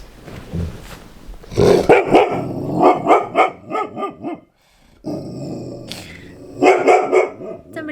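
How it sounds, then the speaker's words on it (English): A dog barks repeatedly in loud, rapid bursts with some growling, pausing briefly before barking again close by. "Dante, we have a doggy coming"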